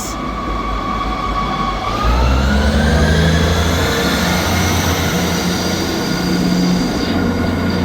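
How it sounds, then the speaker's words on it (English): ScotRail diesel service pulling into Dundee station, a loud close rumble with rising wheel squeal and a sliding engine tone as it arrives, no talk over it. "Arriving in now is the 1303 Scotrail service from Glasgow Queen Street to Aberdeen."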